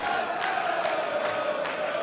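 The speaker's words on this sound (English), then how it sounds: "the crowd are singing generic chants right now" Darts fans at the Austrian Darts Open singing a loud, sustained, droning chant in unison, filling a large hall with a few rhythmic swells.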